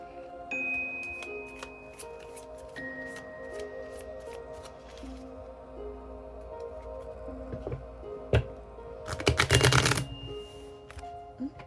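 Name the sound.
shuffling oracle cards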